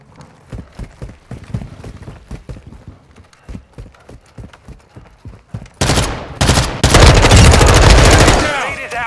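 Gunfire in Call of Duty: Modern Warfare. It begins as quick, steady bursts of shots and then turns into dense, loud sustained firing with heavy impacts near the end.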